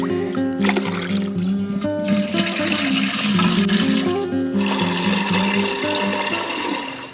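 Water gushes loudly and steadily into a watering can while plant feed is mixed, a continuous close rushing pour that fades slightly near the end.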